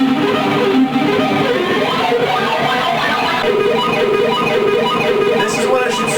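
Distorted electric guitar rips through a fast metal riff at full speed in a dense, loud, continuous wall of notes, played close and alone.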